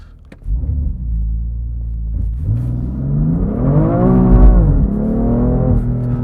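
A BMW F80 M3 CS launches hard from a standstill, its engine snarling loud and close as the revs climb in a steady rising sweep, easing briefly on the upshift and then pulling on through the next gear.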